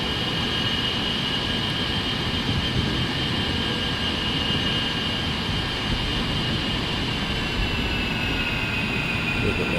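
An A-10C jet's engines in the DCS flight simulator game, a loud continuous turbine roar and whine, with the pitch easing slightly as throttle comes back.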